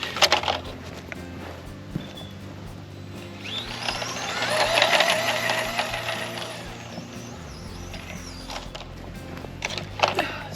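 An FCX24 RC crawler truck runs in second gear, its small electric motor and gears whining steadily louder toward the middle of the pass, then easing off, with faint clicks and creaks around it.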